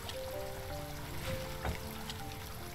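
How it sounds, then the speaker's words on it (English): Water running from repaired pipes in the game Children of Silentown, a steady soft trickling stream with low hum and faint tones under it, fairly quiet and continuous, with no talking. "Hey, the water's flowing."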